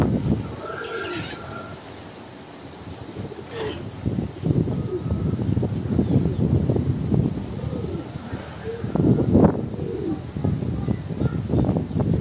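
Homing pigeons coo from inside a cage holding about fifty birds, a steady low murmur of overlapping coos with occasional chirps, fairly close and continuous throughout.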